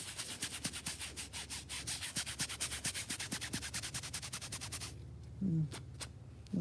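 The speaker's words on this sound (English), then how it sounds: "Yeah, scrubbing." A mattress being scrubbed with household cleaner makes a rapid, rhythmic rubbing scrape at close range, then stops, leaving a quiet room with a brief voice-like sound afterward.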